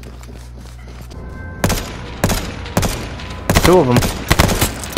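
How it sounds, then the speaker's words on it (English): Sharp gunshots crack out in the H1Z1 video game, several loud bursts and single reports spaced across a few seconds, with brief talk in between. "I'm getting shot from the side"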